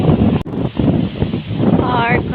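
Strong wind gusting across a seaside farm with corn and cassava, buffeting the microphone in a loud continuous rumble with rustling, and a voice talking over it.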